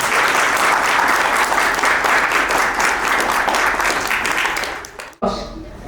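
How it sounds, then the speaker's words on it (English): An audience at a UK universities education fair applauds steadily for several seconds, a dense, close crowd of clapping that breaks off abruptly near the end. "May I ask all of us to have a round of applause for ourselves."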